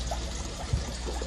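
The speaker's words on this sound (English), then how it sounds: "So I'm just filling it up" Tap water pouring into a bucket for filling a fish tank, a continuous splashing, gurgling flow heard close up and fairly loud, steady throughout with a brief low thump near the middle.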